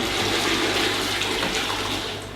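Water poured from a spout into a sink, a steady close splashing gush that continues throughout and tapers slightly at the end.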